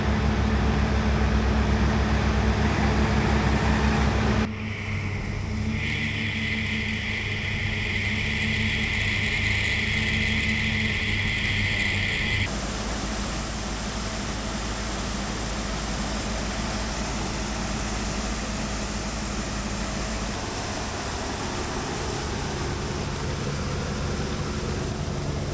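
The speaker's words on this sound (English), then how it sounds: "So they run a field line blower, and they have a power unit on it." A field forage blower driven by a 240 to 250 horsepower power unit fills a silo with dry corn silage, giving a steady, loud engine drone with a strong low hum. A shift in tone partway through adds a higher whine before the sound settles into an even roar.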